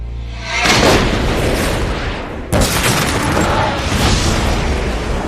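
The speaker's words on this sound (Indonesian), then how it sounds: "Dia yakin ledakan itu berasal dari koper yang diberikan bos gangster itu" Two loud, booming explosions, the first swelling in at the start and a second sharp blast midway, each followed by a long rumbling roar.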